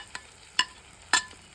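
Ginger, garlic, onion and tomato frying in a pan for chicken curry, with three short spatula scrapes against the pan over a faint, low background sizzle.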